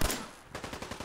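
A quick pistol shot in Fallout 4, one sharp close crack, then a short rapid run of smaller pops trailing off, with no talk.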